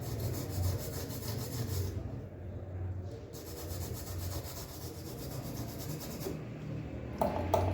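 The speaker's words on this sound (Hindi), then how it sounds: "तो इसको ब्रश से साफ़ करते हैं और साफ़ करने के बाद देखते हैं जी।" A brush scrubs a dead Infinix Hot 9 phone's circuit board clean, giving a steady, close, dry rubbing and bristle scratching that runs continuously at moderate level with no talk.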